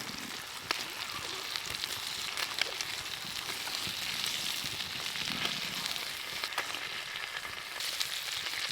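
Bacon and eggs sizzle in a pan for breakfast wraps at a bush campsite, a steady crackling hiss with scattered sharp pops running throughout without a break.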